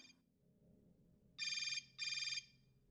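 A cell phone ringtone chirps in two short, bright electronic bursts with a brief gap between them, following a fragment of a similar tone and quiet background at the start.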